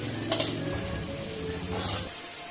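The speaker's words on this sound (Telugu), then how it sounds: "ఆనియన్స్ బాగా రెడ్ గా వేగాలి." Onions fry in oil for a masala aloo curry, a steady sizzle with a couple of metallic stirring scrapes against the pan, close and moderately loud.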